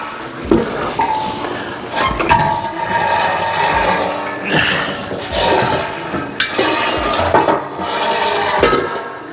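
An angle grinder cutting through the exhaust pipe of a 1999 Ford F250, a loud continuous harsh rasping whine that swells and dips as the cut proceeds, with brief scraping breaks, close up.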